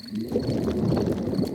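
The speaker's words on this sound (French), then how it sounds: "Les gargouillements de mon estomac sont les plus beaux bruits de la nature." Daddy Pig's stomach rumbles in a Peppa Pig cartoon, a low bubbling gurgle that burbles unevenly for about a second and a half, close and fairly loud with nothing else heard.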